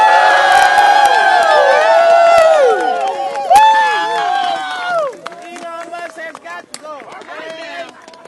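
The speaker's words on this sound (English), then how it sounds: "I want you all to give yourselves a big round of applause." Protesters at a rally against PEPFAR AIDS-relief cuts in the USA cheer and whoop loudly, a dense roar of crowd voices that fades after a few seconds into scattered shouts, claps and talk.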